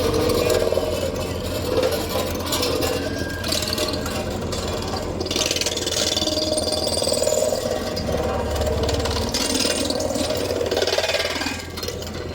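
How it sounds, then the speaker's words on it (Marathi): A road roller's engine rumbles steadily as it crushes a pile of seized motorcycle silencers at a parade ground in Hingoli, with metallic scraping and clattering over the low drone and faint voices in the background. "जप्त केलेल्या सायलेन्सरवर रोलर फिरविला गेला"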